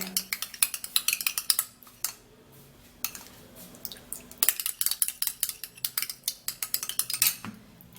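Egg whites being stirred briskly in a bowl, a quick run of close, light clinking and scraping strokes with a brief pause midway before the rhythmic stirring resumes.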